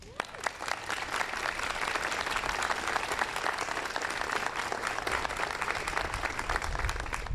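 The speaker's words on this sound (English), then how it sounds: "Please give a round of applause to Arnie Duncan." Loud, sustained applause from a ceremony audience at the 2009 Teacher of the Year event, dense, continuous clapping close by and unbroken, with some crowd noise mixed in.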